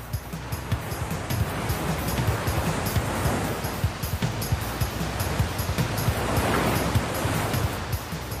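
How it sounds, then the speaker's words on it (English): Jungle river rapids roar around huge boulders and bends as water rushes down from the highlands, a continuous, loud, churning wash of rushing water with no pauses. "As the water roars around the huge boulders and bends in the river, it creates treacherous whirlpools."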